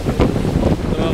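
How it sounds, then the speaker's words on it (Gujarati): Strong, cold wind gusting at the Chowpatty seashore during stormy sea weather, a loud continuous buffeting roar on the microphone with no voices. "પવનનો અવાજ આવતો હશે તમને."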